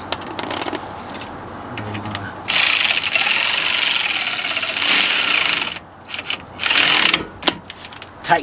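A ratchet tightens a rear brake caliper bolt during a rear brake pad replacement on a GM full-size truck or SUV such as a Silverado, Tahoe, Yukon or Escalade. Rapid clicking ticks lead into loud, sustained buzzing mechanical bursts close by.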